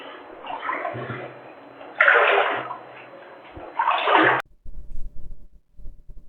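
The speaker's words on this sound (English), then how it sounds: "all I hear is what sounds like a waterfall in front of me" Rushing water roars in surges with a hollow, echoing quality in a catacomb tunnel, cutting off abruptly near the end to faint rumbling.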